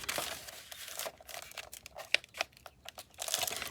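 Paper envelope being folded and creased by hand, a series of soft, close crinkles and sharp crisp creasing snaps in an irregular rhythm, quiet overall.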